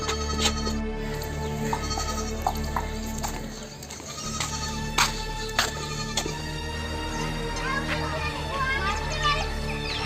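A goat bleats repeatedly, with short, sharp calls spread across a steady background hum and some faint movement, fairly close in an outdoor setting.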